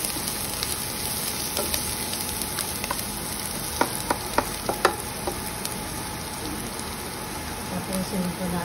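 Ground meat sizzles and crackles in a pan over high heat, a steady hiss with scattered pops and a few clinks of a utensil stirring, heard up close.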